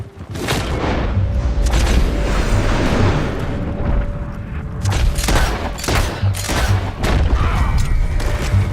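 Loud, dense gunfire and booming blasts in a Red Dead Redemption 2 shootout with the United States Army, rapid overlapping shots and heavy bursts running almost continuously.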